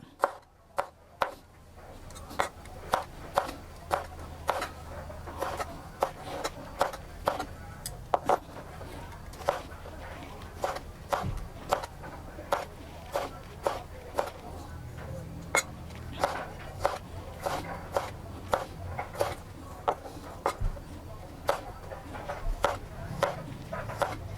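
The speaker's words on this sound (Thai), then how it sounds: "แล้วก็หั่นเป็นเส้นเลยครับ" A knife chops rhythmically on a cutting board, steady repeated close taps over a quiet room, with brief pauses between runs.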